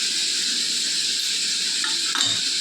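Kashmiri chili powder hitting sizzling stuffed okra and potatoes in a pan, a steady loud hiss of frying oil with a short crackling burst near the end.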